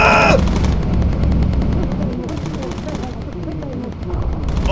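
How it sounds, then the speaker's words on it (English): Rapid machine-gun fire from a bomber's turret firing incendiary rounds in the video game Bomber Crew, a loud continuous burst of dense shots that runs throughout with engine drone beneath. "Get the incendiary rounds going. Fire!"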